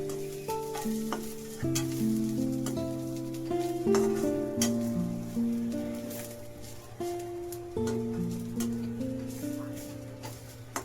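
Grated coconut stirred into masala frying in a pan for a spicy masvadi rassa curry, with steady scraping and a soft sizzle repeating in strokes over a melodic music backing.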